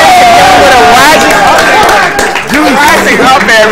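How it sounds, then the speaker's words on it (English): A loud crowd roars and cheers at the grand finals of an esports fighting-game tournament, a dense continuous wall of voices and shouting that fills the space throughout. "This crowd is wild."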